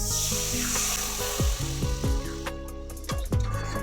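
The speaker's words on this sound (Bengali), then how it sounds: "মশলা ভাজা হয়ে গেছে এতে আমি পনির নারকোলের দুধটা ঢেলে দিলাম" Coconut milk hits hot oil and frying spices with a bright sizzle that fades, followed by several soft scraping stirs in a pan.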